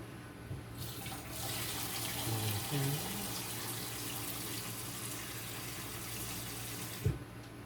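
Water gushes steadily from a tap into a cup being filled for a freezer, a continuous close rush that starts abruptly, with brief low voice sounds underneath.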